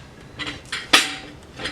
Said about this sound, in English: So I'll just be scraping.